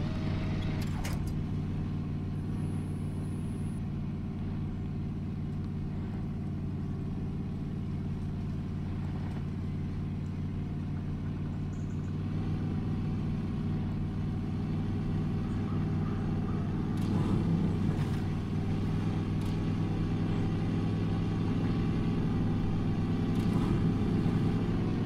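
A truck engine drones steadily as it drives in SnowRunner, a low, continuous motor hum at moderate volume that holds even for the whole stretch and swells slightly near the end.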